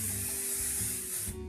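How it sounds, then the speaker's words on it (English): Suavecita hairspray hisses in one steady continuous spray onto hair, close and fairly loud, stopping abruptly near the end. "go ahead and get your hairspray. My handy dandy Suavecita hairspray."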